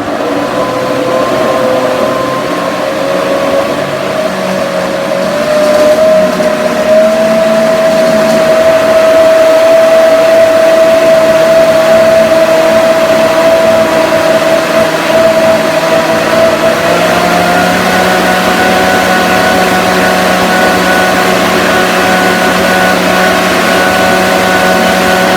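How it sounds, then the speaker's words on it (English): Blender motor running steadily at raised speed, making a continuous loud whir with a humming tone that shifts slightly partway through, no voices. "It's blending nicely."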